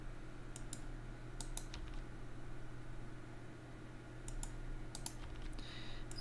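Scattered keyboard key presses and mouse clicks come in small quick clusters at a computer running Blender, light and close over a steady electrical hum, with quiet gaps between bursts.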